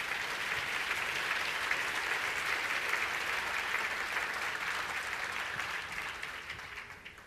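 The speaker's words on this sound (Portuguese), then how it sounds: "Palmas." Sustained audience applause at a talk on cartoons and blasphemy, dense and steady throughout before tapering slightly at the end.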